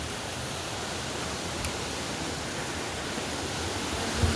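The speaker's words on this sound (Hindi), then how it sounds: "झरना बहता हुआ आ रहा है" Waterfall at Durga Dhara in Chhattisgarh, a steady, dense broadband rush of falling water that fills the whole clip evenly, close and loud, with no voices.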